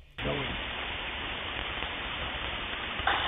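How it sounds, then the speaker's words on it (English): Ham radio receiver static on the 40-meter band, a dense rain-like hiss that switches on abruptly and holds steady and loud throughout, with a brief tonal blip near the start and a slight surge at the end. "Kind of like that, like rain noise or static noise."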